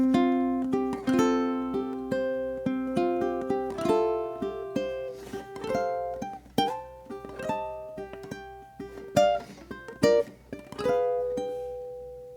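A ukulele plays the opening four bars and pickup of a song, a slow country waltz of plucked, ringing notes and strummed chords in steady three-beat time, clear and close with no voice.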